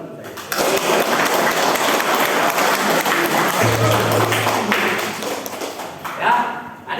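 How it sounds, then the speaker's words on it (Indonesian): Audience applause at an Indonesian fire-extinguisher (APAR) safety demonstration, a steady continuous clatter of clapping lasting several seconds with a brief low hum partway through, then tapering off. "Kasih tepuk tangan lagi saya."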